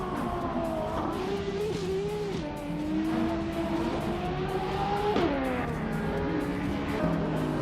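Race cars, among them a 2015 McLaren 675L, roar continuously with rising and falling engine pitch and brief tire squeal, loud and steady throughout with no speech.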